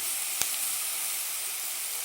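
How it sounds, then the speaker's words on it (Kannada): Chopped carrot hits a pan of onions fried until brown, giving a steady close hiss of frying, with one brief sharp click early on and no voices. "ಈಗ ನಾನು ಕಟ್ ಮಾಡಿರುವಂಥ ಕ್ಯಾರೆಟ್ನ ಹಾಕ್ಕೊಳ್ತೀನಿ."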